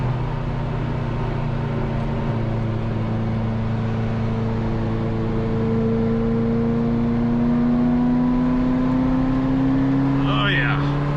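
A Ferrari 348's engine drones steadily while the car dives into a turn, its pitch climbing slowly and holding loud and close throughout, with no speech over it.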